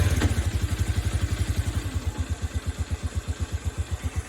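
A semi-automatic motorcycle engine fires up from the starter button and settles into a rhythmic, evenly pulsing idle, close and moderately loud with no talk over it.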